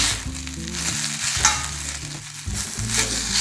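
Chapati noodles with spring onion fry in a pan, a continuous sizzle broken by repeated scraping stir strokes, close and steady with no voices.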